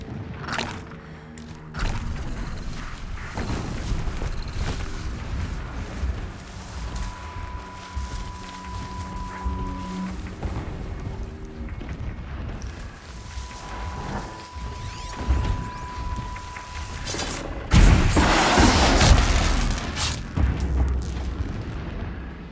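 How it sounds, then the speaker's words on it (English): Distant explosions rumble in the Horizon Zero Dawn video game, a series of muffled booms with a louder, closer burst near the end, set over a steady game soundscape with no talking. "explosions in the distance"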